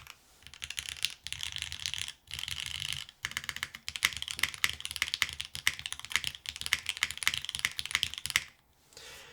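Dense, even typing on a Soul 65 all-aluminum mechanical keyboard with an anodized frame, a steady run of crisp clean key clacks with almost no ring, broken by two short pauses, close and alone.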